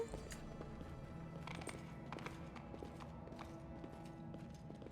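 Horse hooves clip-clop steadily in a fantasy role-playing game, Pathfinder: Wrath of the Righteous, a rhythmic walking gait heard near and continuous beneath game music and ambience, with an occasional whinny.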